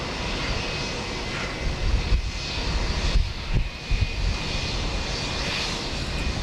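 Airliners taxi at Houston Intercontinental Airport, their jet engines making a broad, steady roar that swells and dips slightly. The sound is heard from a moderate distance with no talking.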